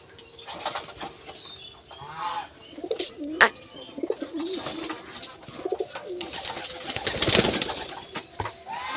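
Fantail pigeons coo repeatedly at close range in rolling, throaty phrases, with bursts of wing flapping and scuffling among them.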